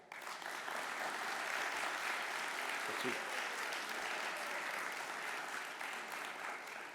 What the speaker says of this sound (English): let me know with a round of applause